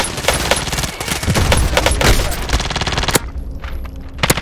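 Rapid gunfire in the Call of Duty Warzone video game at Boneyard, with dense overlapping shots for about three seconds, then quieter gaps broken by a couple of sharp cracks.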